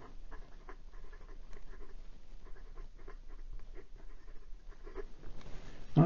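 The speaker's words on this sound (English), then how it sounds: "And for some reverse writing" An Acme Studios Frank Lloyd Wright fountain pen is written reverse side up on paper, making a faint, dry scratching patter of quick, irregular nib strokes, close and quiet, with no voices.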